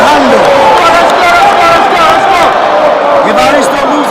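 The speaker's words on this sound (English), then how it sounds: "the crowd is getting excited here" An excited crowd at a basketball game between Matero Magic and Green Buffaloes makes a loud, steady roar of cheering and shouting, with a commentator talking over it.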